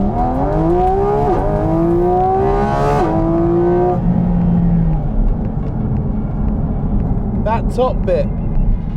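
A Porsche GT4 RS revving hard, a loud rising engine and intake howl that climbs through the gears then drops away, with brief sharp blips near the end and someone talking over it.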